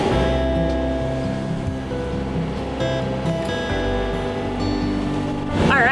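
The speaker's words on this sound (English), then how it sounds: "we are back to just motoring straight into these waves" Waves washing against a sailboat motoring straight into a head sea with its genoa furled and mainsail down, a continuous surf wash over a steady engine drone, with a louder splash at the end.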